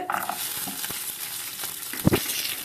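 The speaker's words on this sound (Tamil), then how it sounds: "வரமிளகா போட்டாச்சு இதெல்லாம் வறுத்து எடுத்துக்கலாம்" Red chillies, cumin, pepper, cardamom, coriander seeds, fennel, cashews, ginger and garlic dry-roast in a pan with a close, crackly sizzle and steady stirring, broken by a louder scrape and clatter near the end.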